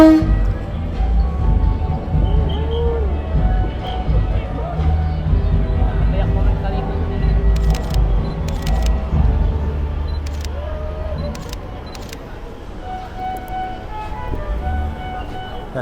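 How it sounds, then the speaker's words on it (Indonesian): The ESS 3201 electric locomotive, the oldest still in service in Indonesia, passes at a train parade as a steady, loud mechanical hum under continuous talking. Sharp camera-shutter clicks cut in near the end. "Dan ini dia untuk rangkaian loko listrik ESS 3201 nih, yang merupakan lokomotif listrik tertua di Indonesia yang masih aktif sampai sekarang ya."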